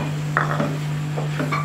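A spoon scrapes and clinks lightly against a pan while dried fenugreek is stirred into keema, a few soft metallic taps over a steady background hum.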